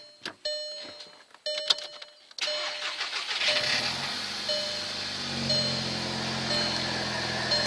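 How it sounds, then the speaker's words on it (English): A VW MK6 GTI has its ignition switched on, giving a few sharp clicks and chimes. The engine then cranks and catches, settling into a steady, fairly loud idle. "let's kick the car on and see what happens"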